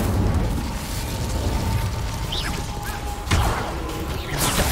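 An Incendio fire spell cast in Hogwarts Legacy, heard as a loud, close burst of flame and crackling effects among continuous game noise, with a sharp impact partway through and another swell at the end.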